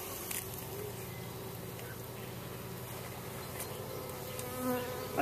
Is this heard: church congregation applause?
no